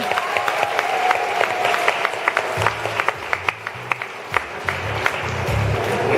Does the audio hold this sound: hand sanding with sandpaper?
no